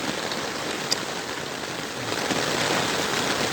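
Heavy rain driven by strong wind pours down in a steady, loud, unbroken hiss that swells slightly toward the end, with no voices.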